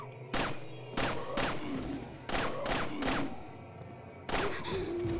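Gunfire in Resident Evil 4: five or six loud, sharp shots spaced irregularly over a few seconds, each trailing a short reverberant tail over a low game background hum.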